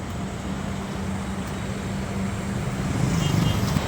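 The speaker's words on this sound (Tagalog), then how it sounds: "Medyo traffic siya." Road traffic in Green Hills, San Juan, a steady wash of nearby engines and tyres with a low hum that grows slightly louder toward the end.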